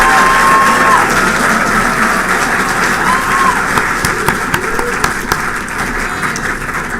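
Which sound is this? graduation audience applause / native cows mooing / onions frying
graduation audience applause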